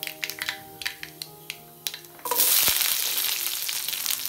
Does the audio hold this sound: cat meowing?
no